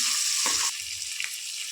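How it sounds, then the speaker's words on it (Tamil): Onions sautéing in a pan for veg biryani, frying toward golden: a steady bright sizzle with a few soft stirring scrapes, close and moderately loud, no talking. "வெங்காயம் நல்லா பொன்னிறமாக வதங்கி தெரியுதுங்களா உங்களுக்கு?"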